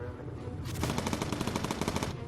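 A rapid burst of .50 cal machine-gun fire in the bomber video game Bomber Crew. The evenly spaced shots rattle loud and close for about a second and a half over a low background rumble.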